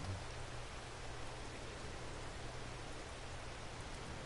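Rain falls steadily in a PS4 farming game, a constant, even hiss of downpour with no breaks, moderately loud and alone without talk.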